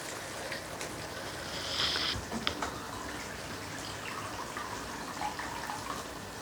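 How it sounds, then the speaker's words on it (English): Water splashes and trickles steadily for a few seconds into thick curry paste, a soft pouring sound close by with a brief brighter splash partway through. "So I'm going to add water."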